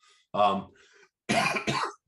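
Two close, harsh coughs, the second a quick double burst, separated by a short pause.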